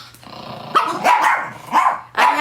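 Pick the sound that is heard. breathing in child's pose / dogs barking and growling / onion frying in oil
dogs barking and growling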